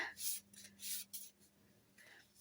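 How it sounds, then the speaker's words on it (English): Two cards are shuffled by hand at a crafting desk, giving a few soft, quick papery rubs and flicks in short bursts, faint and close, with a low background hum. "So I'm just going to shuffle them."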